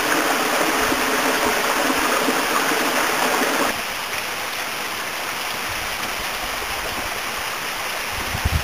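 Steady, loud rush of a waterfall in a canyon fills the whole clip, dropping to a softer broadband roar partway through, with no voices.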